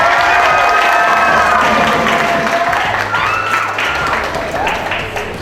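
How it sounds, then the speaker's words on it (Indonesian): Students applauding inside a high school classroom, a dense burst of clapping with some cheering voices that fades gradually over about five seconds. "Harusnya jangan tepuk tangan."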